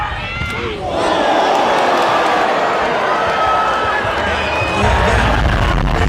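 A large crowd roars and cheers continuously at a Run Nation event where players run full speed into each other, a dense loud wash of voices that swells near the end.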